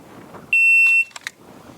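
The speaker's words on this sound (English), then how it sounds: "All right, Nick, so on the buzzer, you're just going for that nice purchase" A shot timer gives one sharp electronic buzzer tone, loud and steady for about half a second, to start a pistol shooting drill, followed by two quick gunshots.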